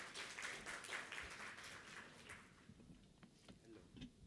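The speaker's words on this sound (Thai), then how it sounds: "ปรบมือ" Applause from a seminar audience, fairly faint and scattered, is strongest at the start and thins out into a few separate claps and small handling noises toward the end.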